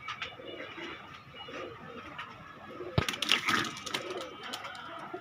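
Pigeons coo softly in a loft or market setting in Khulna, low repeated murmurs close by, with a sharp clatter and brighter bird noise joining midway.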